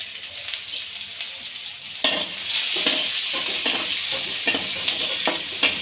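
Onion and green chili fry in hot oil with mustard seeds, making a continuous close sizzle broken by repeated sharp scrapes and taps of a stirring spoon against the pan.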